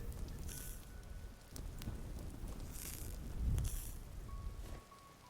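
Rain falling in the video game Vintage Story, a soft steady patter and rustle with gusty swells rising and fading, fairly quiet and with no voices.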